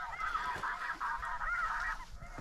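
White-fronted geese honk repeatedly in flight over a hunting blind in Alberta, a rhythmic run of high, nasal calls at moderate distance, with soft low noise beneath.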